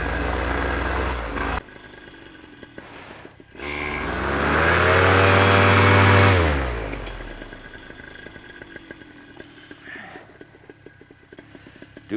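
A two-stroke paramotor engine on an air trike runs up: it idles, then swells into a loud, sustained high-revving roar for a few seconds before dropping back to a steady idle, close to the listener.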